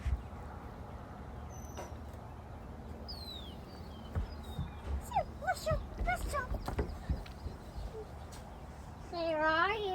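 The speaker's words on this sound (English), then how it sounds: "Where are you, my favorite puppy?" A puppy whimpering and yipping in high, wavering bursts that grow busier midway, with a longer whine at the end, over a steady low background hum.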